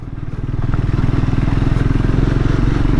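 A motorcycle engine runs steadily under the rider on a road trip, a loud close, rhythmic low throb that builds from the start and holds at cruising speed without a break.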